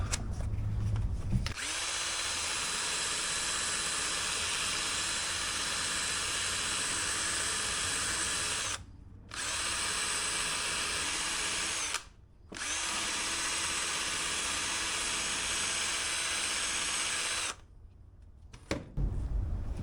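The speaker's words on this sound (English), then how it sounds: "Now this piston, I'm going to try a wire wheel, see if I can get some more shit out of it." A power-driven wire wheel scrubs a Honda SL70 motorcycle piston with a loud, steady high whine. It runs close and alone for long stretches, cut by two brief pauses before spinning down at the end.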